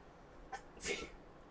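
A single quick sneeze, a short intake followed by a sharp burst, close and fairly soft.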